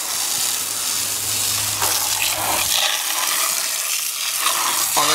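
Water sprays from a garden hose onto an outdoor AC unit and its compressor area, a continuous hissing splash with shifting spatter and a low tonal hum that cuts out partway, close and fairly loud, with no talk.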